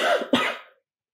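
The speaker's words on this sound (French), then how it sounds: "je me mets à tousser" A single short cough, close and clear, with a brief throaty burst followed by a second rougher push that fades out within a second.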